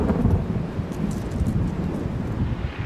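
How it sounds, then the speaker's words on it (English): A thunderstorm breaking over open countryside, a continuous low rumble of thunder mixed with wind and rustling, steady and fairly loud with no talking. "a thunderstorm broke on the horizon"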